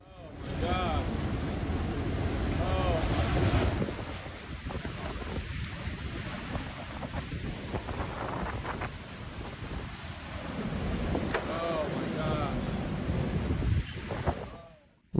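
Strong wind gusts from a storm blowing at around 113 km/h buffet hard, with a continuous roaring rush and loud blasts on the microphone that swell and ease over the whole stretch.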